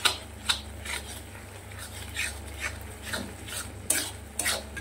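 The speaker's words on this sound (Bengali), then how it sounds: "এবার কিছু সময় মশলাটা কষিয়ে নেব।" Spice paste for katla posto, a poppy-seed carp curry, is stirred and cooked down in a pan, with about ten rhythmic scraping strokes over a soft, steady background.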